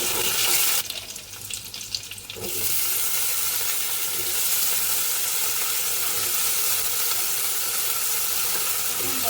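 Green chillies frying in hot oil in a pan while cooking a fasting dish, a loud continuous hiss of sizzling that dips briefly near the start before resuming steadily.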